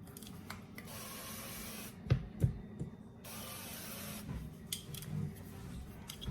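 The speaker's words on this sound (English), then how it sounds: "this is just a really good nonstick spray that I use before I pour the eggs in there" Hissing bursts of a nonstick aerosol cooking spray onto a skillet, a few short sprays broken by brief pauses, close by with faint clatter and low room noise.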